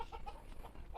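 Backyard hens brooding on eggs, a quick run of soft low clucks, faint and close, lasting only about a second.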